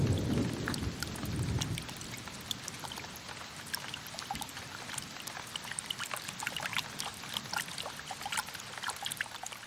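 Steady rain pours down in a continuous, dense hiss of drops, with a low rumble like distant thunder in the first couple of seconds.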